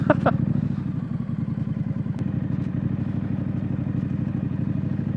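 A street scrambler motorcycle crawling in first gear across deep beach sand, its engine putting out a steady low rumble close by with a few clattering knocks early on and no talk.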